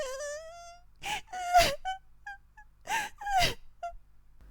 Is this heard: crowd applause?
no